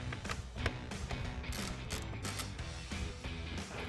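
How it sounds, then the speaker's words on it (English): A ratchet wrench clicks rapidly and repeatedly, loosening size 10 bolts off the studs of a powered heated folding mirror on a RAM 1500 pickup, close and fairly quiet with no talk. "The next step is to remove these 3 bolts off the studs."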